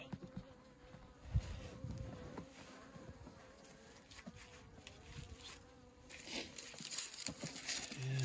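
Honeybees buzz faintly inside an opened hive in near-freezing late-winter air, a soft continuous hum broken by close crinkling and handling sounds.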